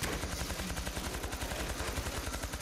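Rapid, steady automatic gunfire in the zombie shooter World War Z Aftermath, a continuous rattle of evenly spaced shots at moderate loudness with no voices over it.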